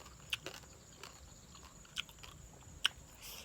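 Crunchy bites of crispy fried field crab, a few sharp crackling crunches spaced out over quiet chewing, close and fairly soft, no talk.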